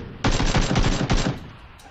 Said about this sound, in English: I just heard some bullet shots.